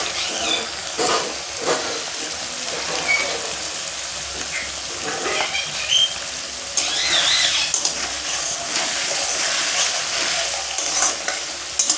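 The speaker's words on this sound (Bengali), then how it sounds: "দিয়ে ভালো করে নাড়ে ছেড়ে নিচ্ছি" A spoon stirs fish curry in a frying pan after salt goes in, scraping and clinking over a steady sizzle for twelve seconds, close and fairly loud, with a faint voice now and then.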